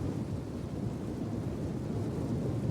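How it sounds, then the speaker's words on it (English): Rain and rolling thunder in the Total War game Dawnless Days during a Gondor campaign siege: a continuous, deep, even rumble with a steady hiss over it, with no speech. "Hey, at least it's raining."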